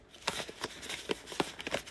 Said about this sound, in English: this deck is hard to shuffle